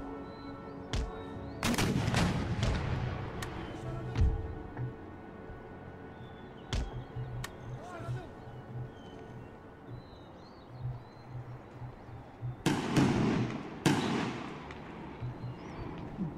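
Artillery firing shrapnel shot in the strategy game Empire: Total War, with several sharp booming reports scattered irregularly across a rumbling battlefield bed, clustered bursts near the start and again near the end.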